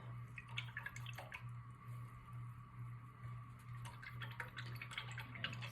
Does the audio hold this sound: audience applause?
no